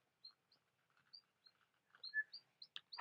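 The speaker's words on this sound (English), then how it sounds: "That bird is really making it some great sounds, huh?" A small bird chirps in quick, bright tweets scattered across the moment, close and fairly clear against a quiet background, with a few soft rustles between calls.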